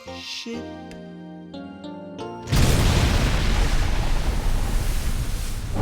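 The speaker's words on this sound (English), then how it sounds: "So after the song, this explosion is played" A cartoon explosion from SpongeBob bursts in after a short musical sting, then a loud, broad roaring blast rumbles on and slowly decays.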